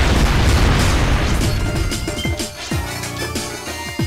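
A booming video-game explosion from Shantae: Risky's Revenge bursts loudly at first, then a string of smaller pops and crashes follows in quick succession while the blast fades.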